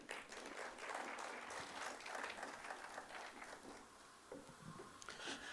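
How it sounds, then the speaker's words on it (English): Crowd applause at a job summit event, a dense, steady wash of many hands clapping that holds for several seconds with no break. "Another round of applause"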